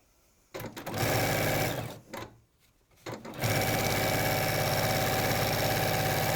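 Sewing machine stitching a quarter-inch seam on a zip bag project, a loud, close mechanical whir that starts, pauses briefly, then runs steadily and continuously.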